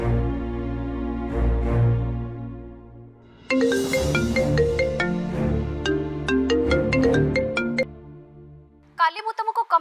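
A mobile phone ringtone plays a bright, repeating melodic tune loudly in an indoor domestic scene from an Odia drama episode, with people talking around it and a short chirping burst at the end.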